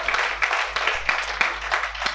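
Congregation applauding during a church service, a steady wash of many hands clapping at moderate volume with a few sharper accents, no talk over it.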